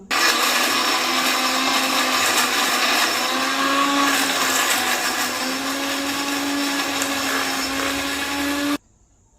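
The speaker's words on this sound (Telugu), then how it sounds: "మిక్సీకి వేసుకుందాం ముందు వేయమ్మా" A mixer grinder grinding green chillies whirs loudly and steadily for several seconds, a harsh motor whine, then cuts off abruptly near the end.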